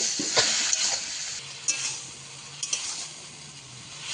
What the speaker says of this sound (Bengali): সামান্য অল্প একটু জল দিয়ে দেবো, দিয়ে ভালো করে কষিয়ে নেব।